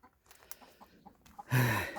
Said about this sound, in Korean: 그래서 이렇게 닭장 안으로 이렇게 들어왔네요